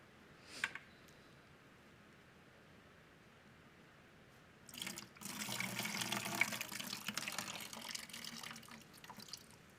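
Water poured off fermented seeds and pulp into a sink, a steady splashing pour starting midway and running for several seconds, following a brief earlier splash, with no talk.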